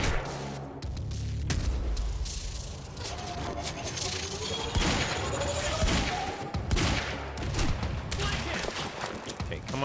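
Gunfire in the video game Quantum Break: dense, sustained bursts of shots and heavy impacts in a chaotic firefight, with booming hits and continuous rattling fire, and voices speaking underneath.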